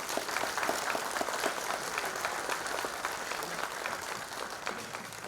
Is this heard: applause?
yes